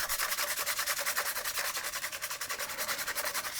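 Close, rapid back-and-forth rasping of sandpaper inside a drilled hole in wood, a quick steady rhythm of scratchy strokes with no talking.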